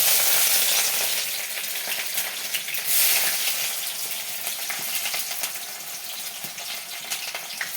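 Oil heats and fries in a pot on the stove, giving a steady, close, bright sizzle with small crackles and clinks throughout and no voices.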